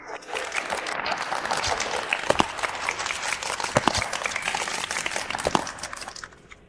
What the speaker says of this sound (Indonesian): Mari kita berikan tepuk tangan meriah untuk pengantin malam ini, Nona Shen Muxi